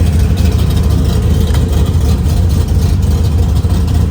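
A 1972 Chevrolet Chevelle with a 572 big-block engine fires up and settles into a loud, steady, deep rumbling idle, close to the microphone with no talk over it.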